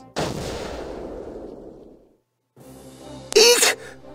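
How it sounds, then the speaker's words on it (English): An explosion in the video game Valkyria Chronicles: a heavy blast with a long rumbling decay, then a short silence, background music and a sharp second burst. "An explosion?"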